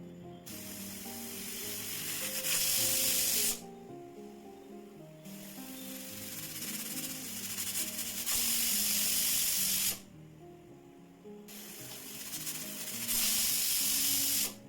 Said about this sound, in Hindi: तो ढक्कन बंद कर ये कुकर में हम 3 विसल आने तक पकाएंगे।